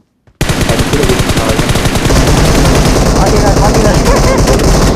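Rapid, loud bursts of gunfire fill a film scene, a sustained volley of shots starting abruptly and continuing without pause.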